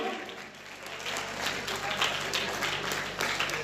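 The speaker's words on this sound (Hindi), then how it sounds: "आपकी तालियां रुक क्यों गई?" Audience at a talent competition in Mirapur Vasahi applauds with a steady, fairly distant wash of clapping that rises after a brief dip and holds for several seconds.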